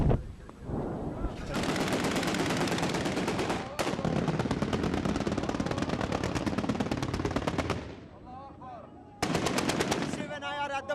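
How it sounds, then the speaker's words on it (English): Sustained heavy gunfire and rapid salvos from a Grad multi-barrel rocket launcher in a Libyan battle zone, loud and dense with dozens of close, rhythmic bursts, a brief pause and a final cluster of shots. "This is where actual firing is taking place. The grads are firing. This is a multi-barrel rocket launcher."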